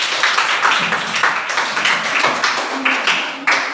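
A group of children claps together in a steady, continuous burst of applause, fairly close and loud.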